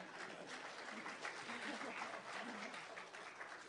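Dense applause from a crowd at a tribute ceremony for American hostages in Iran, steady clapping sustained for a few seconds, heard from some distance.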